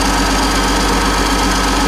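A Ford CLT9000 truck diesel engine with a worn injector or unseated ring runs steadily nearby, a loud, dense rumble with no pauses and no voices.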